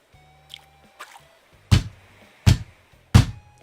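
Fishing in Animal Crossing: New Horizons, with a few soft drips followed by three loud, evenly spaced splashes of the line and float in the water over a quiet background.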